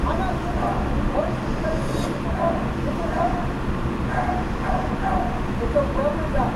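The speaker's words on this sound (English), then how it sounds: "What are we barking at, dude?" Repeated dog barks come through at a distance over a steady rumbling background, scattered irregularly across the stretch.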